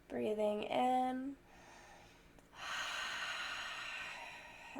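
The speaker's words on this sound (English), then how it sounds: "Breathing in" A slow, deep breath is drawn in audibly through the nose during a guided meditation, following a soft speaking voice, then a longer airy inhale.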